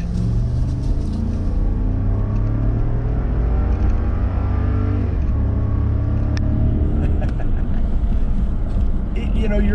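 A Lexus LX 570 SUV accelerates on the road, its engine rumble heard from inside the cabin as a steady, loud drone with a speaker talking over it.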